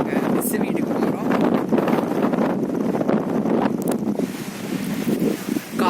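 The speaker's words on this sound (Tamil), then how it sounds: "காற்று பயங்கரமாக." Strong wind buffets the microphone outdoors in a heavy, continuous rumbling roar with gusty surges throughout, loud and close.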